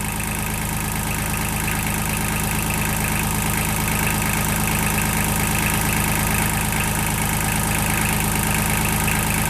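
A Kubota L235 tractor's diesel engine idles steadily and loudly for the whole stretch, a dense, even mechanical drone with no voices over it.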